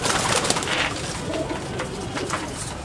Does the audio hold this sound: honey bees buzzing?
no